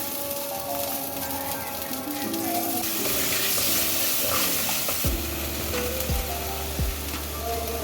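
Loud sizzling and frying of garlic ginger paste in oil in a pan with stirring scrapes, followed by a few low thuds near the end.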